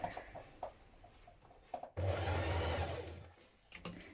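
A sewing machine hems a small double hem on a sleeve ruffle for a frill dress in Liberty London fabric, with a steady, close whirring run of stitching after a few soft handling taps.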